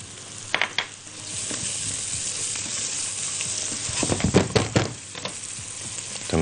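Cut artichoke sizzles and fries in a pan with onion, butter, oil and minced garlic, a steady close hiss broken by a few stirring clatters, with no talking.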